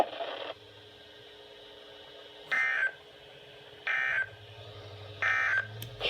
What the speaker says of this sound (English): That was the test of the NOAA Weather Radio warning alarm.